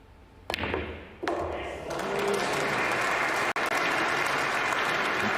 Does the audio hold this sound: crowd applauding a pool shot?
yes